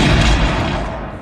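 A gunshot in a film duel booms loud and close, a heavy blast that decays into a rumbling tail over about a second.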